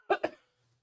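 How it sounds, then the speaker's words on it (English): Right after a potent shot is swallowed, a man gives a sharp double cough, two quick close bursts that fade into silence. "My eyes water and I always cough"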